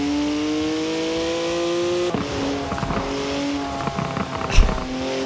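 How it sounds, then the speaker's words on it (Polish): A BMW engine in the Forza Horizon 4 racing game hums at a steady pitch, then shifts gear with sharp pops and crackles between shifts and throttle lifts, loud and close with no talking. "Mi się podoba to takie pierdzenie między zmianą biegu."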